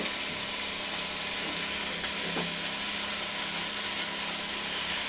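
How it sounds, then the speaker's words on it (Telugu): Green gobi frying with onions in a pan, giving a loud, continuous sizzle and hiss, with faint stirring scrapes and no voices. "గ్రీన్ గోబీ వేసి ఫ్రై చేయాలి"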